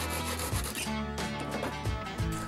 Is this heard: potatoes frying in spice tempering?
no